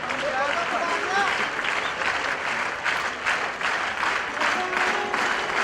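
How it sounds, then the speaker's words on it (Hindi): An audience at a World Wetland Day event at the Sirpur Ramsar site claps steadily, a dense, loud patter of hand claps that swells and dips over several seconds while a voice speaks over it. "आप सभी का स्वागत, आपकी तालियों का जोश।"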